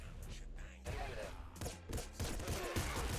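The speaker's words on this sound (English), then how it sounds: "Golden grenade launcher." Golden grenade launcher fired in the video game Nuclear Throne, with several booming blasts and bursts over busy game sound and background music.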